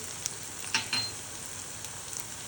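Tomato, onion, turmeric, coriander powder and chilli frying in a pan for a bombil (Bombay duck) chutney, a soft steady sizzle with a few brief pops and clinks of stirring, faint and close, with no talk.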